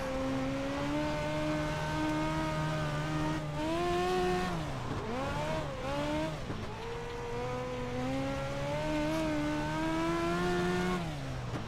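Race car engine in the iRacing sim at the Chili Bowl dirt track, revving hard and winding up with steady rising pitch, dipping briefly mid-run then climbing again, loud and close with faint tire scrub.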